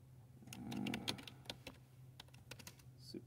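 Quiet, close typing on a computer keyboard, a quick irregular run of light key clicks over a low background hum.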